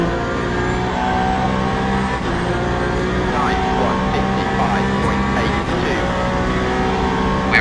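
Race cars, including a BMW, run an eight-hour endurance race at Bahrain in the racing sim Le Mans Ultimate, a steady loud engine drone with shifting revs under continuous commentary.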